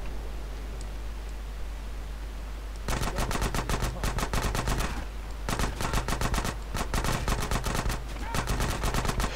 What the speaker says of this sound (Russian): стрелять в полете реально очень тяжело.